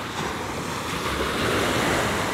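Waves wash continuously onto the sandy beach at Golubitskaya on the south shore of the Azov Sea, a loud, close surf mixed with gusty wind buffeting the microphone.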